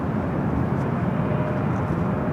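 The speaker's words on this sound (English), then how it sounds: "757 up next for takeoff." Delta Air Lines Boeing 757, about twenty years old, taking off at LAX, a loud, steady low-pitched jet engine roar with a broad rumble, close and continuous without breaks.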